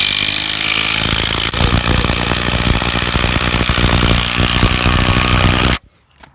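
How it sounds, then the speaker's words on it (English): A power driver sinks a 250mm long tech screw into a timber corner joint of a garden office frame, a loud continuous grinding whir with a rapid chattering pulse that cuts off abruptly near the end. "we'll drive in these 250mm long tech screws."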